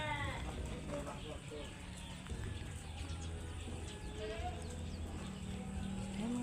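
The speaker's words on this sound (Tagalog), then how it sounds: "Ayan mga kambing." Goats bleat at a farm with outdoor background noise, a few calls rising over a steady rumble and voices talking throughout.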